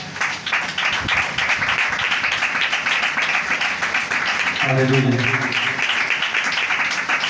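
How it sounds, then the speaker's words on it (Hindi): A church congregation claps steadily and densely throughout, with a voice briefly calling out over the applause partway through. "उसके लायक ताली बजाएं जरा।"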